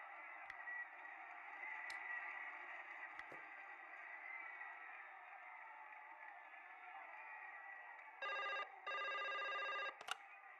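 A telephone rings in the Broken Sword 5 adventure game, with repeated electronic bursts of a bright, even ring near the end, heard over steady background game ambience and no talk.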